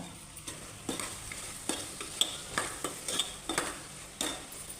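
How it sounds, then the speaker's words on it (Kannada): Turmeric and garam masala fried with vegetables for a pulao, a soft sizzle under repeated scraping stirs of a spoon against the pan, close and steady with no talk. "ಎಲ್ಲವನ್ನು ಹಾಕಿ ಚೆನ್ನಾಗಿ ಫ್ರೈ ಮಾಡುವ"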